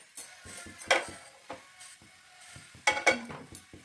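Kundru (ivy gourd) pieces frying in hot oil in a pan, with soft sizzling and several clinking stirs of a spoon against the pan in irregular bursts, close by.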